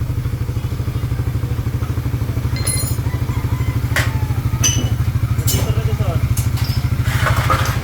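An engine idles with a steady, rapid low thumping after repair of a cracked block and bent balancer, joined by occasional light clicks and clatter nearby.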